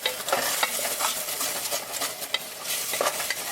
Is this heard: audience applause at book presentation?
no